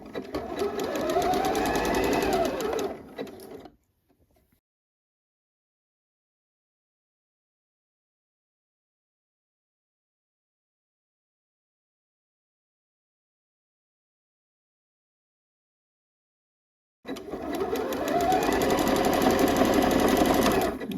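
A home sewing machine stitches a neckband onto the neck edge of a fall top, whirring in two bursts of steady motor hum separated by a long silent pause.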